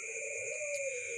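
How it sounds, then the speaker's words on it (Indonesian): Zebra dove (perkutut) calling at night: a steady, soft tonal coo held alone against quiet nighttime background, with a faint higher tone layered above. "memelihara burung perkutut yang berbunyi pada malam hari"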